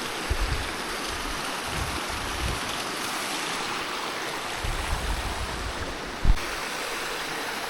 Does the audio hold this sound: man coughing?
no